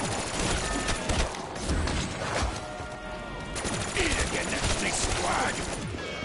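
Sustained automatic gunfire from an MP40 submachine gun in Black Ops 3 Zombies, a dense, loud stream of rapid shots over about six seconds with other game noise mixed in.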